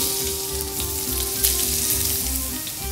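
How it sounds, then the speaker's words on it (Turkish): Green peppers hit hot olive oil in a pan during a Turkish home-cooking show preparing oven-baked meze, giving a steady, loud, close sizzle throughout with no talking. "Biberlerimi içine atıyorum."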